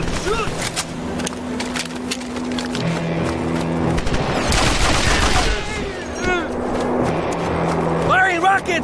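Dense gunfire rattles through a Mercenaries 2: World in Flames battle, with machine-gun bursts and a vehicle engine droning underneath, while shouted voices cut in over the fighting.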